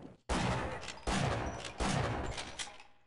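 A shotgun fires three times in the Half-Life video game, each loud, close blast evenly spaced about a second apart and trailing off in a short decay.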